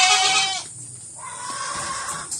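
Goats bleat on a farm, among them a young red Boer doe: one clear close bleat followed by a longer, fainter bleat over farmyard background.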